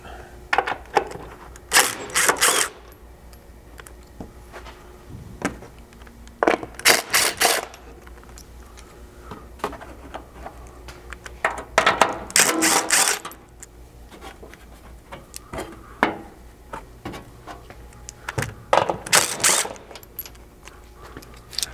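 Small factory stamped nuts being removed with a 10mm socket from the underside of a Ford Bronco Sport, giving several short metallic clicking and ratcheting bursts spread out with quiet gaps between them.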